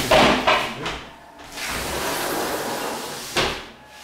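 A sliding balcony door runs along its track in a residential flat, opening and closing in a few quick bursts. The rolling rumble carries between sharper knocks as the panel starts and stops, close and fairly quiet.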